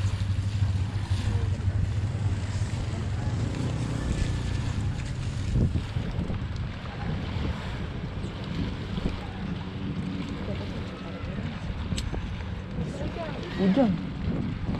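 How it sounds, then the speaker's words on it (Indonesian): A boat motor drones steadily over wind buffeting the microphone, with water lapping and a few faint knocks, as the boat approaches on Ambon Bay; the engine stays close throughout. "Perahu yang mau ambil sudah dekat."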